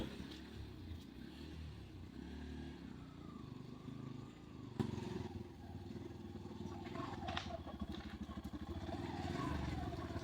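Three motorcycles carrying six riders on a trip through Mirsarai, Chattogram idle and rumble close by, with a sharp knock midway and the engine note rising steadily toward the end.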